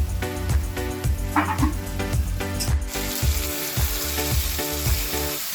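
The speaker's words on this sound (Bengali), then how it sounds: "মশলার সঙ্গে মাছের মাথাগুলোকে কষিয়ে দিয়েছে" Fish heads fry in oil with a cooked-down paste of salt and Kashmiri chilli, a steady close sizzle under loud rhythmic thumps of music that drop back after a few seconds as the hiss brightens.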